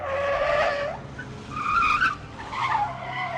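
A car skids out of control on a rainy night on the Malshej Ghat road, its tires squealing loudly in long wavering screeches that swell, dip and surge again, close and dramatic with no voices.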